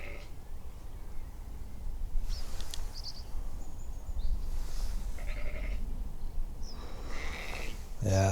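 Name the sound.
sheep and lambs bleating in field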